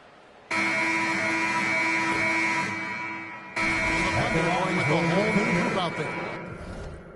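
A long, loud, steady tone sounds as the final buzzer in the basketball video game NBA 2K26. It blares for about three seconds, pauses briefly, then returns while crowd noise swells underneath.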